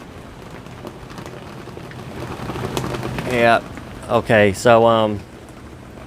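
Rain falls outside as a soft, continuous hiss that carries under the whole stretch, while someone speaks a few brief words toward the end.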